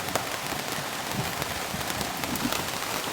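Steady rain patters on a surface near a parked van during a thunderstorm in North Wales, a continuous even hiss with scattered drop taps and no thunder clap or voices standing out.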